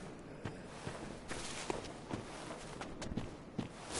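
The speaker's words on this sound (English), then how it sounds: "I heard your footsteps." Soft, scattered footsteps in the video game Bloodborne, in Hemwick Charnel Lane, patter irregularly through a dense, rumbling ambient bed, faint and somewhat distant, with no voices.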